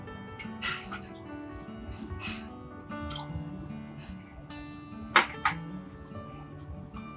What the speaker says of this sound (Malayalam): ഒരു പാത്രത്തിലേക്ക് ബാക്കിയുള്ള പാൽ ഒഴിക്കാം.